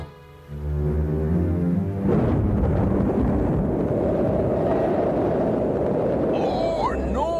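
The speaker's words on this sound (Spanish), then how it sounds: "jamás había visto una tormenta como esta" A cartoon thunderstorm at sea: after a brief voice, a loud roaring rush of storm wind and crashing water starts suddenly and churns steadily to the end, with a rising whistle near the finish.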